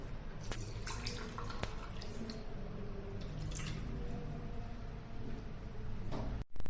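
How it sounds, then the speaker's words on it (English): Water pours into the piezoelectric crystal section of an ultrasonic nebulizer, heard as faint trickling and dripping with a few sharp splashes, close up and quiet, with no talk. "first I am going to pour some water in the piezoelectric crystal section"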